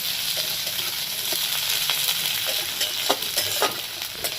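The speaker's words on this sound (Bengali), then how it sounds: "এবার এই তেলের মধ্যে ভেজে নিচ্ছি পেঁয়াজ কুচি" Chopped onion fries in oil in a close, continuous hiss and crackle, with light stirring taps scattered through it and no voices.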